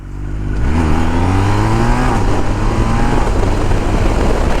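The boxer engine of a 2023 BMW R 1250 R ShiftCam motorcycle revs up close by, its loud growling tone climbing and falling through a couple of throttle blips.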